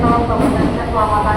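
A KRL commuter train built by INKA rumbles into a platform at Manggarai station in Jakarta, a loud, continuous low rolling roar up close, with a voice talking over it.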